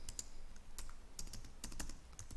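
Code typed on a computer keyboard in an AI-powered IDE, a run of crisp, close keystrokes in quick irregular bursts with no talk over them.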